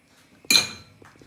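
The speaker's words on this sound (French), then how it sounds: "je mélange le tout" A spoon knocks once against a pot of semolina milk soup while it is stirred: a single bright clink that rings briefly and fades, with faint quiet handling around it.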